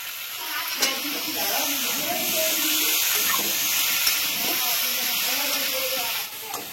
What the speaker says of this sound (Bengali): আলুটা ভাজা হয়ে গেছে, টমেটোটা দিয়ে দিচ্ছি